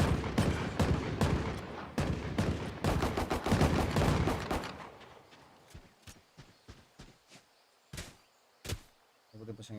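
Rapid gunfire from the video game Valorant during a competitive match, a dense stream of loud shots that thins into scattered single shots and sharp bursts, with no talking.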